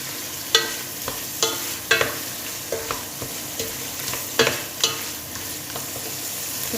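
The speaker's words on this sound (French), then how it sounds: "Je vais bien faire rôtir toutes les carcasses." Fish carcasses and garlic roasting in a pot for fish soup, a steady sizzle broken by regular scraping stirs of a utensil against the pot, close up, with no voices.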